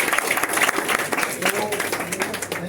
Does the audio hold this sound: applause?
yes